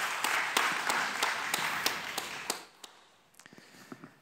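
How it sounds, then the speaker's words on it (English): An audience claps for a couple of seconds, dense and fairly loud, then the applause cuts off and a few scattered claps and taps remain. "So those who think it's going to collapse, please clap now."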